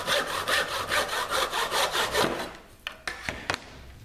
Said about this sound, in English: using the bench hook and the tenon saw